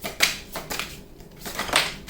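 Tarot cards being shuffled by hand, several short papery riffles and slides in an irregular rhythm, close and fairly quiet with no talking.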